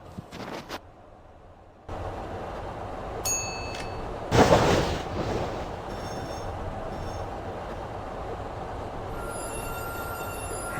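Subway train running in the game Rail Ultimate 2, a steady rolling rumble with wheel squeal and a loud burst of hissing noise midway, plus high electronic tones, continuous and close with no talk.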